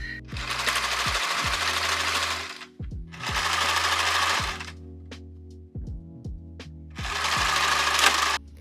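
A sewing machine stitches fabric in three loud rapid bursts of a few seconds each, separated by short pauses with faint mechanical clicks, close and without talk.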